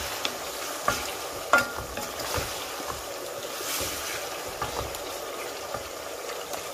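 Bay leaves with cinnamon, cardamom and cloves fry in oil alongside melting ginger-garlic in a pan, giving a steady low sizzle with occasional stirring clinks, fairly quiet and unbroken by talk.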